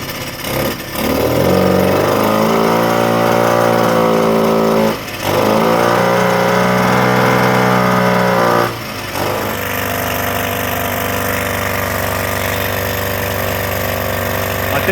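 A 1979 Suzuki JR50 minibike's small two-stroke engine runs roughly and loudly, revving up in two surges that drop away before it settles into an uneven idle, close by with no talk.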